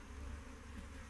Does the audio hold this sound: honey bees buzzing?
yes